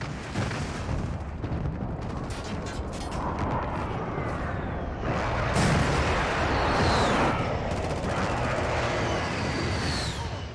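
Heavy rumbling explosions from an enemy precision airstrike in Modern Warfare roll on continuously for several seconds, with layered blasts and crackling debris.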